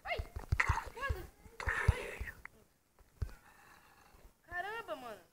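A dog whimpers in the Call of Duty video game, thin high whines rising and falling among gunfire-like bursts and nearby chatter, with people talking over it.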